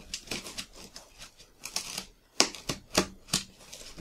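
A small butter knife saws and scrapes through the sides of a cardboard box in a run of short, crisp, uneven strokes, close up, with several louder cuts toward the end.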